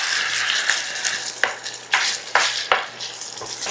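Eggplant caponata with vinegar and sugar is stirred in a hot pan, sizzling steadily with several sharp spoon scrapes spaced about half a second apart, close and fairly loud, with no voices.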